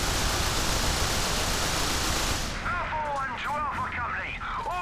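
Reaper carbine fire in the video game Resistance, a dense, loud barrage of noisy shots for the first half, then quieter combat with whooshing, sweeping effects and voices underneath.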